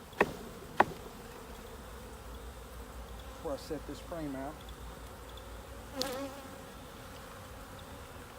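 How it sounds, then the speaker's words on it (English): A steady insect buzz from many honey bees in a hive fills the clip, with a few sharp knocks and brief scraping sounds, and a voice speaks briefly over it. "there's so many bees in here"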